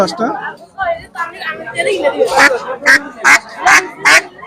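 Ducks quack and honk in a row of loud, close calls at a winter village market for local desi ducks, with people haggling over prices in the background and the calls growing more frequent toward the end.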